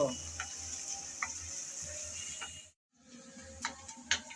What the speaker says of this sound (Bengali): নেড়ে চেড়ে হালকা করে রসুন আর পেঁয়াজ ভেজে নেব